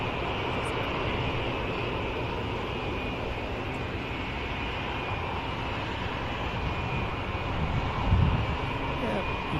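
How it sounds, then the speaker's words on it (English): P-47 aircraft engine droning steadily at an air show at RAF, a continuous rumble with someone talking over it. "Lovely sound of the P47 that I suppose I'm currently talking over"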